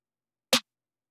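A single short snare hit from a drill beat, one dry snappy crack heard alone against silence.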